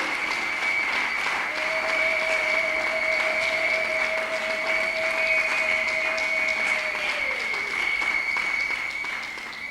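Steady, dense applause from a church congregation at an investiture ceremony, continuous and moderately distant, with a sustained tone beneath that fades out toward the end.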